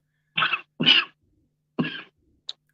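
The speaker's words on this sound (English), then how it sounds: "coughing is not helping much" Three close, raspy coughs come in quick succession, followed by a short faint squeak.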